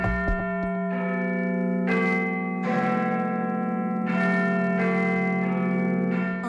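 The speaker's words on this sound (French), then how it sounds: "Les cloches de Big Ben ne sonneront plus pendant 4 ans à cause de travaux de rénovation." Big Ben's bells chiming in London, large church-style bells struck one after another with long, ringing overlapping tones, loud and resonant, each strike blooming and sustaining without any voices.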